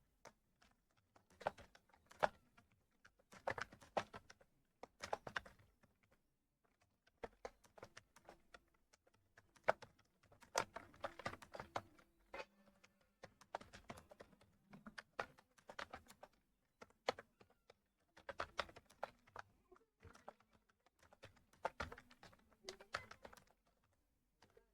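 Quiet, irregular bursts of key clicks from a computer keyboard, typed in short runs with pauses between them while entering a couple of lines of text, with no talking over them.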